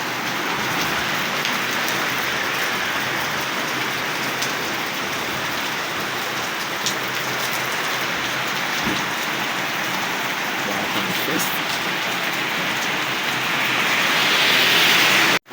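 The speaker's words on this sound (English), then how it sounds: "See, it's raining. It's raining, guys." Steady rain pours down in a dense, even hiss in Bujumbura, Burundi, continuous and fairly close, with no voices.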